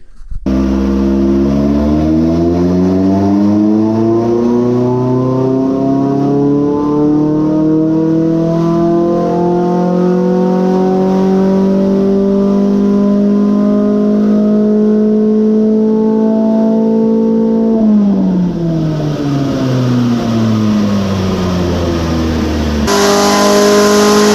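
Ford SVT Focus engine on a dyno during a naturally aspirated run, with a spark plug issue noted, revving loud and steadily upward for about eighteen seconds, then dropping off before a brief new surge, with no talk.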